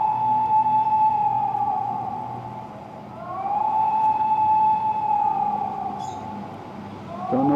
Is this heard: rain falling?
no